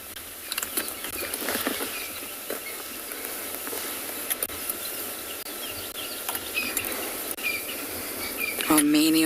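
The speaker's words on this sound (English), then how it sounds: "many of you are loving the sounds of the bush" Bush at sunrise on safari with chirping insects and light rain pattering, a soft continuous background scattered with faint clicks and ticks, plus a brief louder rustle near the end.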